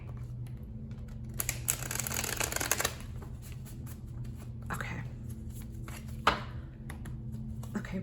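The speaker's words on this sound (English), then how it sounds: "I'm going to shuffle it this way." Tarot cards being shuffled by hand in a quiet room, with a dense riffling burst early on and a few short flicks later over a steady low hum, plus one brief spoken word.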